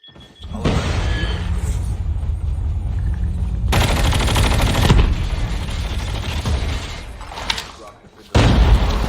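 Loud, sustained bursts of rapid gunfire and booming blasts in Call of Duty Mobile battle royale, with a sudden heavy grenade explosion near the end; voices speak underneath.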